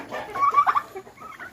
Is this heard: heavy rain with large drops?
no